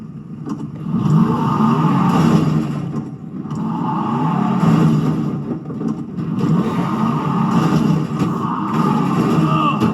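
A car engine revving in the video game Resident Evil 7 surges and falls in repeated waves, loud and continuous, with brief pauses between pushes.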